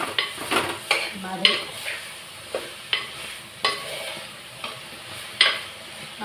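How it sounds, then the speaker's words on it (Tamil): Marinated bitter gourd coated with chilli powder and salt fries in a pan, with a soft steady sizzle broken by repeated spatula scrapes and light metal clinks at an irregular pace, and a voice speaks briefly. "வெறும் குழம்பு மிளகாத்தூள் உப்பு போட்டு தான் ஊற வச்சுட்டு அதை ஃப்ரை பண்ணுறேன்"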